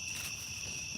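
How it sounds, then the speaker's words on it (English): Crickets chirping at night in an August backyard, a steady high-pitched trill held in two continuous tones, moderately loud and alone over a low background hum. "there's a lot of crickets and stuff"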